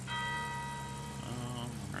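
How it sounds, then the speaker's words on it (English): Church bell striking noon in the video game Gold Rush, a sustained ringing tone with bright overtones that lingers and decays over two seconds, fairly faint under game background sound. "Your church bell."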